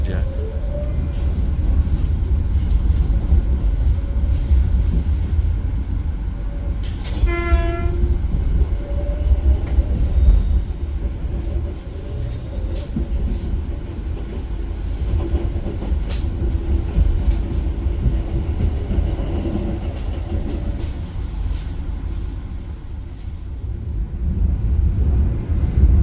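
Taksaka Luxury passenger train rolling on rails, a steady loud low rumble of wheels and carriage noise throughout, with a brief tonal whine partway, under faint voices.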